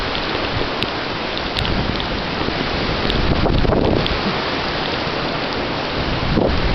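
Heavy rain pours steadily during a Missouri flood storm, a dense continuous hiss with low thunder rumbles rolling underneath and gusts of wind.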